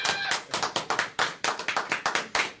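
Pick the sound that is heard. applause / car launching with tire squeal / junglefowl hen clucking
applause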